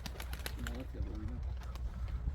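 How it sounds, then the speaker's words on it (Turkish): Tumbler pigeons coo softly in short, repeated warbling phrases nearby, mixed with scattered background noise and a voice. "Bunlar oyun kuşu."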